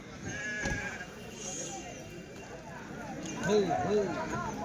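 Sheep bleat several times amid the bustle of the weekly sheep and goat market at Kadiri, with people talking nearby; a cluster of wavering bleats comes near the end.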